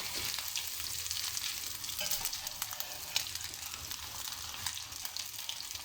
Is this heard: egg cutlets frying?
yes